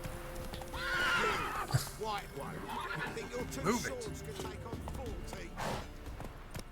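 Horse from The Witcher 3 neighs loudly in a long whinny, with clip-clop hooves and game ambience around it, while someone talks over the sound.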